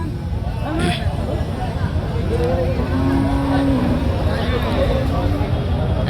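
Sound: cattle mooing at a cattle market

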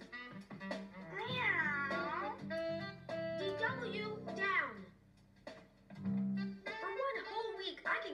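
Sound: cartoon girl imitating a cat meowing

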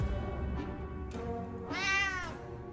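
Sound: cat meowing in video game 60 Seconds

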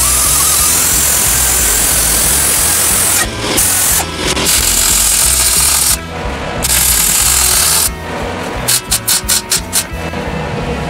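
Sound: welding a broken V plow pin

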